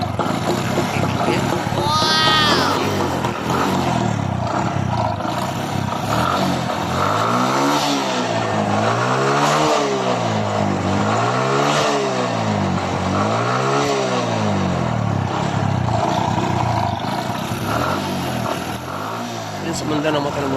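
A Kawasaki Bajaj CT 100 motorcycle that sat unused for three months idles, then revs about five times in a steady rhythm of rising and falling pulls, close and loud, with a voice talking over it.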